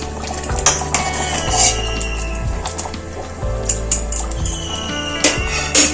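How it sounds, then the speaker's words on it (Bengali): A ladle clanks and scrapes against a pot while mashing soft-cooked kidney beans for a paneer curry, with repeated metallic knocks and wet squishing at close range. "রাজমাটা আমার অনেকটাই গলে গেছে এটা পনির দেওয়ার আগে এইভাবে হাতা দিয়ে গলিয়ে দেবেন"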